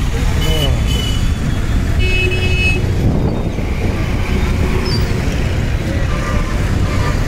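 A busy APSRTC bus stand at Tenali, with a bus departing amid loud steady traffic rumble, engine noise and a horn toot, while people talk throughout.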